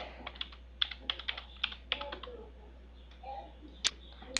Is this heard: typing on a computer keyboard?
yes